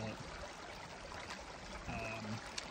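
A clean mountain stream on the southern Pacific Crest Trail flows and trickles steadily at close range, a soft continuous wash of running water with no talking.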